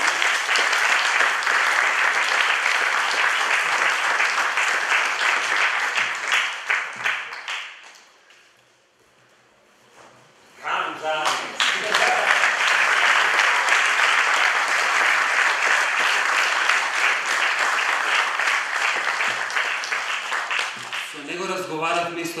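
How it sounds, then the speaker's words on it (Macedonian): Sustained audience applause at an international guitar festival winners' concert, loud and dense, briefly fading to near quiet midway before surging back to full strength. "Ќе го молам еден аплауз и за него."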